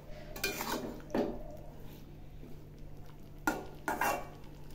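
Drumstick curry with green and ripe chilli paste being stirred in a pan, giving a few scraping, clinking strokes against a low, steady background hum with no talk.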